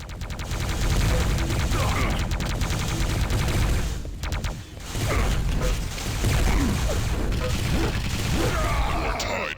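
Rapid gunfire and crashing impacts from a fast-paced futuristic shooter video game, loud and nearly continuous bursts with a short lull midway, dense layered battle noise throughout.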